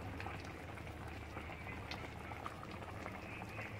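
Bengali mustard tilapia fish curry boiling steadily in a pan, a continuous bubbling and gentle popping simmer heard close up at an even level throughout, with no talking.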